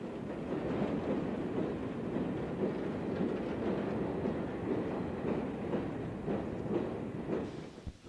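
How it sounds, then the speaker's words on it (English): 1930s LNER steam locomotives hauling ordinary everyday trains, a steady continuous rumble of rolling carriages with faint rhythmic wheel clatter, moderately loud and unbroken throughout with no talking. "Locomotives perhaps not the cleanest, hustle back and forth with regular, ordinary, everyday trains"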